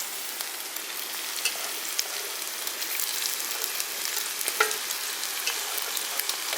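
Chicken pieces frying with a ground masala paste for a Kerala-style chicken thoran give a continuous, close crackling sizzle with small pops and light stirring.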